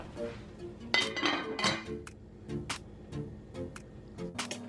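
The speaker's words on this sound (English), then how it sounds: "I'm gonna stir that, and then I'm gonna put the lid over it and let it do its thing." A spoon scrapes and clinks against a cooking pot while stirring, followed by the lid being set down. The sharp metallic taps are quiet and close, with no voice.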